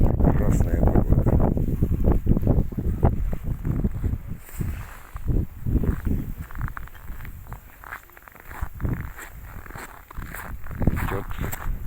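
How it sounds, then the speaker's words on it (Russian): Blizzard wind in Norilsk at minus 25 gusts and buffets loudly and close, with rough microphone rumble, crunching movement and a voice speaking at moments. "Идет метель."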